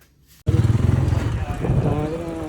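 A motorcycle engine starts up abruptly and keeps idling close by, with a steady pulsing putter that holds at an even level throughout.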